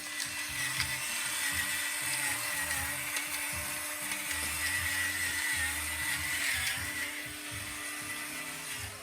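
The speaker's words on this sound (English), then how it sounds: "I know you're loving my pepper grinder here" An electric pepper grinder whirs and rattles steadily for several seconds, a close, buzzing mechanical grind with a gritty crunch of peppercorns, running with no one talking, seasoning cauliflower and potato for soup.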